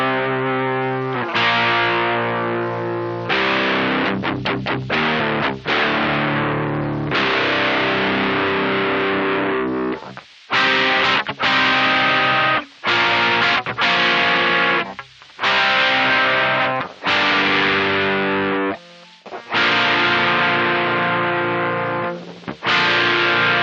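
Distorted electric guitar chords run through a Cypress TT-15 amp simulator, strummed and let ring in loud bursts with short gaps of silence between some of the chords.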